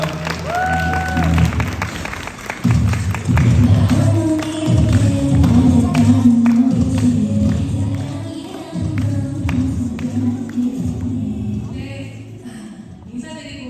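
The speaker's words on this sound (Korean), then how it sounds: "뜨거운 박수 부탁드리겠습니다" Audience applause at a Korean seminar on healing energy and resonance, steady dense clapping filling the room for several seconds, with voices and some talk mixed in, fading toward the end.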